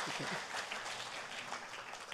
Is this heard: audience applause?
yes